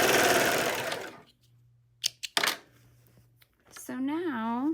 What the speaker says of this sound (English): while you're serging this, if you go ahead and just pull it straight, it helps go around that curve